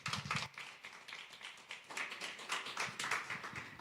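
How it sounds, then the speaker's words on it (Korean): Scattered applause from a church worship-concert audience for the praise team, sparse clapping that swells and thins in uneven bursts, moderately near and fairly quiet, with no talking. "찬양팀께 뜨거운 박수 부탁드립니다."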